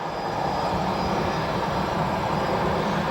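An American Airlines Boeing 737-800 arriving at O'Hare airport, a steady loud jet engine roar with no break, close and alone.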